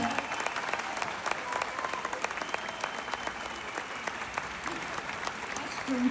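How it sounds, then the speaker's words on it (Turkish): Crowd applause at an open-air concert in Antalya, a continuous bright clatter of many hands sustained throughout, fairly close and even in level. "alkışlar için gelsin dostlar."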